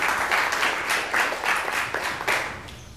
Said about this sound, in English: round of applause for Glenn Gordon, please.